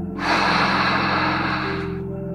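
A single long, deep breath drawn slowly and steadily during a guided meditation exercise, soft airy rush lasting about two seconds, close and alone.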